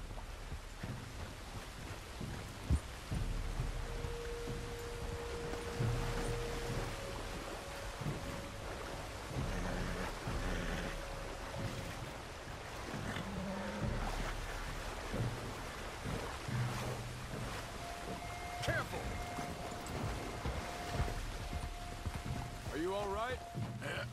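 Steady rain patters and hisses in Red Dead Redemption 2 near a shallow, fast-flowing river, a constant wet wash with low rumbles of thunder beneath, while characters talk over it throughout.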